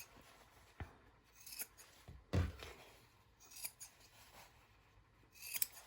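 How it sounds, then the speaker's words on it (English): Scissors snip the fabric corners of a sewn heart-shaped pillow in a few quiet, close cuts spread through a hushed scene, with faint rustling of cloth between snips. "you'll trim off all of the corners that you find here."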